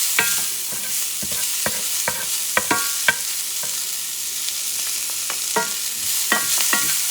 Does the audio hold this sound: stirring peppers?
yes